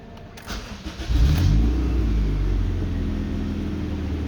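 A Honda Civic 8th gen cranks briefly, then the engine catches and roars up before settling into a steady, loud idle close by, with no one talking.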